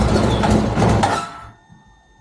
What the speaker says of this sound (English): starting the bike, and then just waiting until it cuts out itself because of fuel starvation